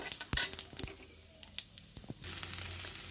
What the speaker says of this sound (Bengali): গোটা জিরে এলাচ দারচিনি তো এগুলো এবার দিয়ে দিচ্ছি তেলে